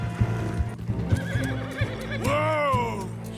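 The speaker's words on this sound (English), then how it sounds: "Mount up, Morgan, we gotta go! Giddy up" Horses neigh and whinny in Red Dead Redemption 2 while hooves clip-clop at a gallop during a train robbery getaway, a loud, close whinny rising near the end.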